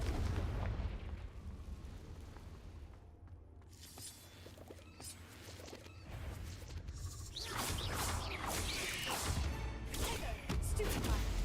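Repeated Confringo fire-spell blasts in Hogwarts Legacy, loud booming explosions and whooshing bursts rolling through the whole stretch, densest and brightest toward the end, with brief quieter gaps between.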